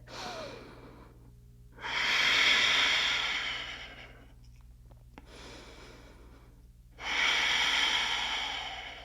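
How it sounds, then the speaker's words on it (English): Slow, deep yoga breathing close by: a long audible inhale, a quieter hold, then another strong breath, each drawn-out airy rush rising and fading under a steady low hum, with no talking. "Nice deep breaths. Beautiful. Breathing into it."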